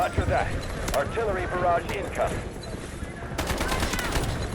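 A PTR-32 assault rifle in the shooter game Delta Force fires a steady burst of heavy shots near the end, after a few earlier cracks, all under a player's running talk.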